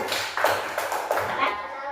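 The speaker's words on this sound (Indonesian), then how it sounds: "tepuk tangan dulu buat kelompok 1" Third-grade schoolchildren clap together in a classroom, a cluster of uneven, overlapping slaps heard close up in a roomy space, with a voice faintly among them.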